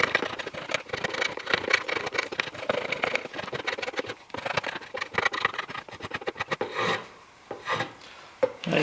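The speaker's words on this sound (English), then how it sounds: "the draw knife is not digging in as deep as it normally would when you're using it beveled down" A draw knife shaves wood while shaping a tool handle, giving quiet rasping, scraping strokes in an irregular rhythm with brief pauses, close by and fairly soft, with no talk.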